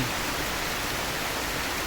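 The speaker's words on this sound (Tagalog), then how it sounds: "yung sound pa lamang na tumutulos sa bubong ng malakas na ulan" Heavy rain pours steadily onto a roof in the Bikol countryside at midday, a dense, even hiss of countless drops with no gaps or voices, close and moderately loud throughout.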